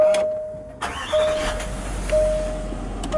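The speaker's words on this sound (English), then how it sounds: "Start the engine." A Range Rover 4.4 diesel Autobiography fires up: a quick starter crank catches into a rising engine note that settles into a steady idle, close by, with a faint electronic chime repeating in the cabin.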